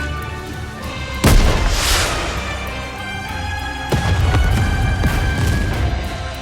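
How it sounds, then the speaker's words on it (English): A shell fired from a rocket launcher bursts in a snowfield during a Goddess of Victory video game cutscene, heard as two heavy booming blasts with rumbling tails, loud and close, with no voices. "a shell flies from the rocket launcher. And a resounding explosion causes the entire snowfield to be blanketed in thick plumes of white smoke"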